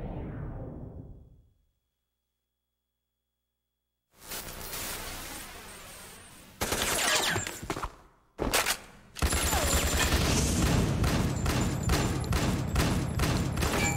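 Dense automatic gunfire in Metal Gear Solid: The Twin Snakes, played on a GameCube. It fades out into silence, then rapid bursts and a sustained, loud fusillade roar back in.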